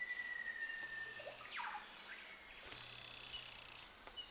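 A small mimic frog calls in the Amazon rainforest, giving a high, buzzy pulsed trill after thin whistled notes, set against a faint background of insects and forest ambience.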